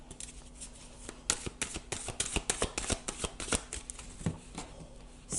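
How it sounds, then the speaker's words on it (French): Tarot cards are handled and slid across a table in a close run of soft, rapid riffling and tapping. "je vais recouvrir les cartes."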